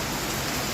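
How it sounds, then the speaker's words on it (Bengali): Heavy rain pours steadily as a dense, even hiss of falling water, close and continuous, with no voices over it. "খুব জোরে বৃষ্টি হচ্ছে"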